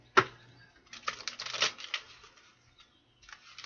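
Tarot cards handled and shuffled at close range, a sharp snap near the start followed by a run of soft papery riffles and taps, then quiet with a few faint rustles at the end.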